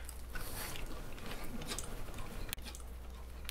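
Close, crisp crunching and chewing of fresh corn, steady and continuous, with a sharp click near the end.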